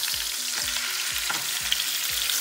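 Village chicken pieces fry in a pan with a dense, steady hiss and crackle, close and even throughout with no voices.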